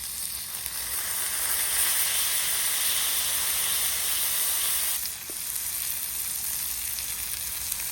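A smash burger patty pressed flat on a hot griddle sizzles loudly and steadily, a bright continuous hiss of frying fat that dips briefly about midway before carrying on.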